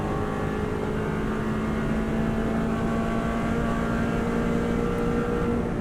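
A Subaru WRX STI engine holds full throttle in fifth gear on the Isle of Man TT course, a loud, steady, unbroken drone with a strong tonal hum that stays level for the whole stretch.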